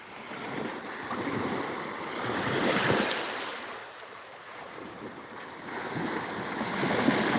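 Ocean waves wash onto a beach on the western shore of the Bay of Thailand at sunrise, a soft continuous surf swelling and receding in broad surges, mixed with wind buffeting the microphone.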